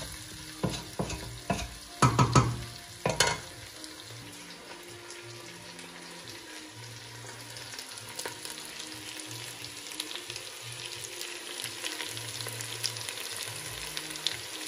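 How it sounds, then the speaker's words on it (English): Onions frying in a pot for Swahili pilau, stirred steadily with a spoon; a few sharp scrapes and knocks early on, then a soft continuous sizzle with quiet rhythmic stirring, close and fairly faint. "just keep on stirring and stirring"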